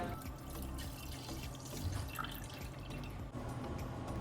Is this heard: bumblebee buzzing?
no